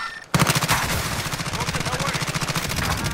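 Rapid automatic gunfire in Call of Duty Warzone, a loud, steady stream of closely spaced shots that starts abruptly and rattles on without a break.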